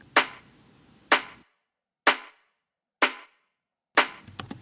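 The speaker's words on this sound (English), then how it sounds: "then a snare playing the same thing." Snare drum sample from a deep tech beat playing the clap's pattern: five crisp, bright hits with short noisy tails, separated by clean silence.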